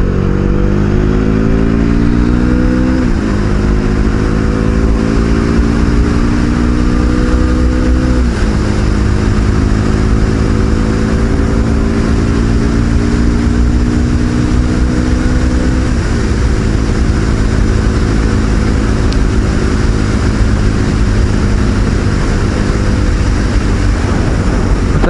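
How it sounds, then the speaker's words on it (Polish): A motorcycle engine drones loudly and continuously close by during a night ride, its pitch rising with each gear and dropping at every shift. "uwielbiam jeździć motocyklem"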